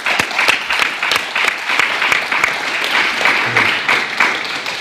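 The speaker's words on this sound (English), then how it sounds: "So round of applause for our panelists, please." An audience at a sustainable transportation policy forum and expo claps for the panelists, a dense, even round of applause that holds steady throughout without talk.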